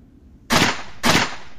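Two loud, close shotgun blasts about half a second apart, each a sharp broadband boom with a short decaying tail, standing alone without talk.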